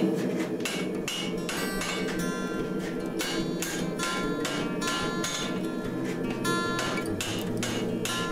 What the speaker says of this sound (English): Alright, this time, 2-pound hammer. I'm going for speed.